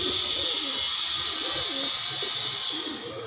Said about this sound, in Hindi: ठीक ठाक कबूतर हैं भाई।